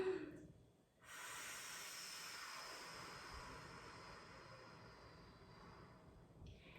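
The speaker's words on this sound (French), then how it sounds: "Et on souffle le plus longtemps possible sur la bougie" A long, steady breath blown out as if onto a candle during a kids' yoga exercise, a soft continuous airy hiss lasting about six seconds after a brief pause, close and fairly quiet.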